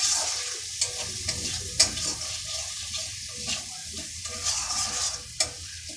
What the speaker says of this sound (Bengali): মশলাটা একটু ভাজা হয়ে যায়